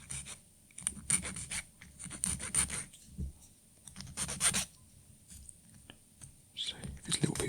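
A small sanding tool scrapes against a plastic Gunpla model kit part, close, soft, repeated rasping strokes in uneven bursts with quiet gaps between them.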